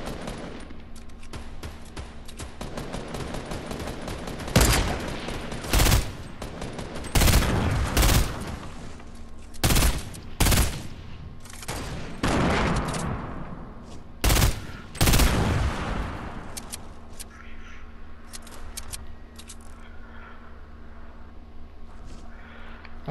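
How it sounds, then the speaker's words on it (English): Bursts of gunfire in the video game Fortnite, loud, close shots in rapid volleys and single cracks over about fifteen seconds, then fading to quieter background game noise. "Can you stop shooting at me?"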